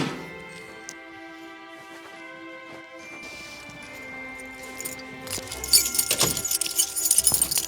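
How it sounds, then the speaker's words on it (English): Car keys jangling and clinking as they go into a metal biscuit tin, bright metallic rattles growing louder and busier toward the end over a humming background. "I've got my keys and I'm gonna hide them in this biscuit tin as a Faraday cage"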